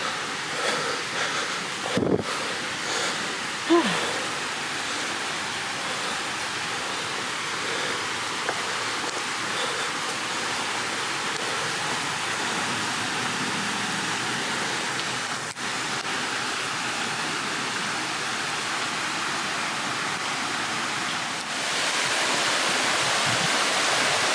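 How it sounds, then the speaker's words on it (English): Steady broadband rush of a waterfall in French Canyon, Starved Rock State Park, constant and fairly close, with brief scuffs and a louder swell of water noise near the end. "it sounds like there's a waterfall"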